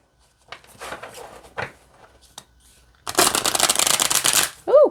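A deck of affirmation cards is shuffled by hand, with brief soft riffles early on and then a loud, dense riffling burst, followed by a short vocal exclamation.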